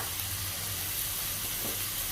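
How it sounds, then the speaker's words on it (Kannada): Onion and ginger fry in a pan with a continuous, moderately soft sizzle that holds steady throughout, with no other sounds over it. "ಇಲ್ಲಿ ನಾನು ಒಂದು ನೀರುಳ್ಳಿ ಹಾಕಿದ್ದೀನಿ, ಸ್ವಲ್ಪ ಇದಕ್ಕೆ ಜಿಂಜರ್ ಹಾಕ್ತಾ ಇದ್ದೀನಿ"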